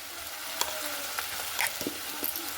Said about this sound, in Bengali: এখানে আমি মশলাটা খুব ভালো মতো করে কষিয়ে নেব।